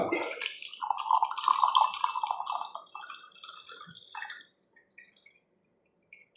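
Roselle juice pours into a glass for a few seconds, a bright gurgling splash that tapers off into a few scattered drips and then silence.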